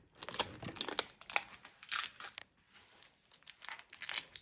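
Fabric is twisted tight and wrapped around a wreath form, giving crisp crinkling and rustling bursts in irregular handfuls, close up and fairly loud, with no talking.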